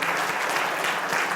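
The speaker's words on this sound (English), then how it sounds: "keep that applause going" Sustained audience applause fills a lecture hall at the close of an oceanographic coastal talk, a dense, steady wash of many hands clapping without pause.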